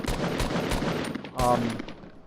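Rapid gunfire from the video game Fortnite rattles off in quick bursts of shots, loud and punchy, with a brief ringing metallic tone partway through.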